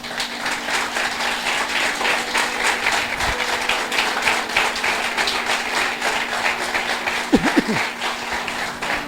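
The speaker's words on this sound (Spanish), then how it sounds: "Denle un aplauso a la gente de Éfeso." A church congregation applauds at a Sunday service, a continuous, even roar of many hands clapping for several seconds, with a brief vocal whoop near the end.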